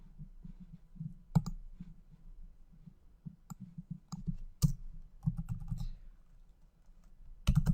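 A computer keyboard clacks as code is typed, with quiet, irregular keystrokes and a few sharper clicks standing out, heard close up with no speech.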